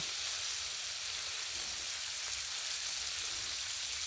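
Sirloin steaks searing on a griddle, a dense, steady, close sizzle with fine crackling throughout and no talking.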